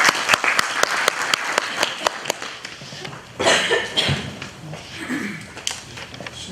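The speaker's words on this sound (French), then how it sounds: "Sous vos applaudissements." Audience applause at an academic summit in a university hall, steady clapping from a crowd with scattered sharper claps, a cough and murmurs as it thins toward the end.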